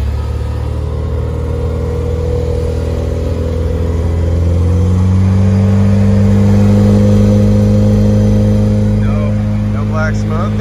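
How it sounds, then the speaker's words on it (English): A 1970 Australian Super Cooper's engine idles and is revved up, a steady loud mid-pitched drone that rises and holds higher partway through, with faint background sounds. "Give it a little bit of gas and see how she looks."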